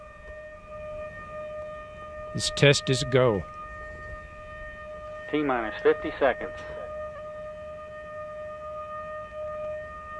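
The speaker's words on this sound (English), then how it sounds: "Sirens are blaring." Sirens sound before a NASA Ares I rocket motor test, a steady layered tone held throughout while a countdown announcer speaks over it in two short bursts.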